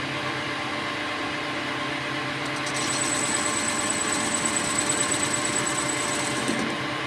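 A metal lathe turns a motorcycle wheel rim, a steady mechanical whir with a thin high whine as the tool begins cutting partway through, close and continuous, with no speech.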